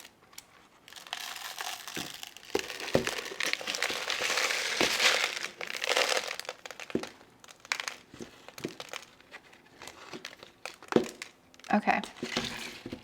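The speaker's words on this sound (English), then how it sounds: "I'm just gonna cut these roots." Alocasia roots being cut during repotting of a variegated plant, with crinkling, crunching snips and rustling of roots and soil, close and fairly loud in bursts, with a voice speaking at times.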